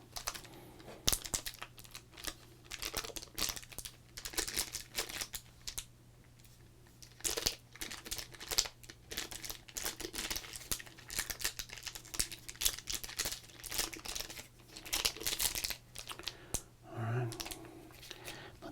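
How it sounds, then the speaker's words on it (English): A wrapped pack of 1995 Topps Series 2 baseball cards is torn open up close, with irregular crinkling and tearing bursts of wrapper and brief pauses between them. "Open up this pack of 1995 Topps Series 2."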